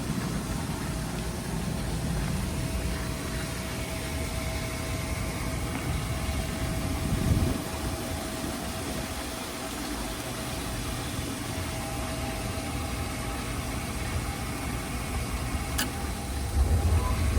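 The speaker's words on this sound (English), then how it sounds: "got a fan motor that just kicked on" A Hayward H250/400 FDN gas pool heater's fan motor runs with a steady, even whir and hum throughout, a constant close drone with a slight bump partway through and no talking.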